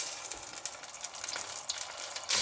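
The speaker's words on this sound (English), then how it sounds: "Can we add the frozen garlic and ginger" Frozen garlic and ginger hit hot oil in a pan for masala eggs, giving a steady loud sizzle and hiss with sharper spits and crackles throughout, swelling into a louder burst at the end.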